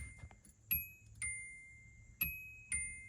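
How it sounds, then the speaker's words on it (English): A key-in-ignition warning chime from a 1985 Nissan 300ZX rings four times in two pairs, clear bright electronic dings each fading out smoothly, close and alone over a faint low background hum. "A cute little chime. It's from a 1985 300ZX."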